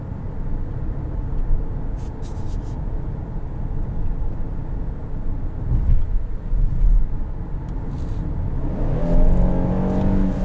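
A 2021 Kia Telluride LX with a 3.8-liter naturally aspirated V6 accelerates, heard from inside the cabin as a steady low engine rumble and road roar that swells slightly toward the end.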